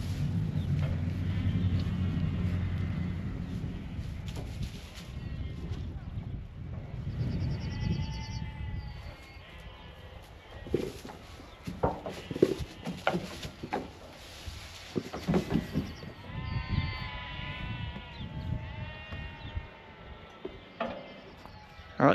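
Sheep bleat intermittently nearby as they rummage in their shelter amid rustling and shuffling, with scattered knocks and movement sounds throughout.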